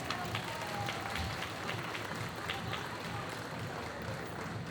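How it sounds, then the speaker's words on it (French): An audience at a cosplay contest applauds three jury members, a steady, fairly distant roar of many hands clapping with crowd murmur mixed in, continuous throughout. "On peut encore les applaudir s'il vous plaît"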